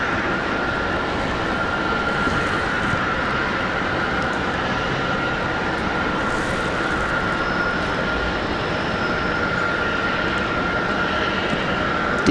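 Airplane departing Raleigh Durham International Airport in snowy weather, a steady broad roar of engines sustained throughout at moderate distance, with no voices.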